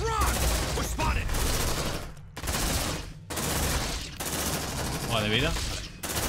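Suppressive gunfire in the video game Aliens: Dark Descent, a loud sustained fusillade of rapid shots broken by short gaps, with a voice speaking briefly over it.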